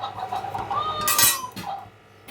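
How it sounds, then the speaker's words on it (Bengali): A metal kadai (wok) is set down on a home kitchen stove while posto bora is being made, giving one clear clattering clank with a brief scrape at close range, no voices, and faint household background sounds around it. "বসিয়ে দিলাম কড়া"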